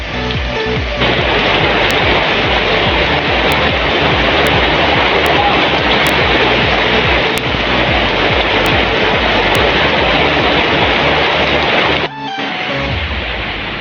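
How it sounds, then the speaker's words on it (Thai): Steady, dense rushing of heavy rain, loud and continuous, briefly dipping near the end before resuming. "สุดท้ายฝนก็ตกจนได้นะครับ"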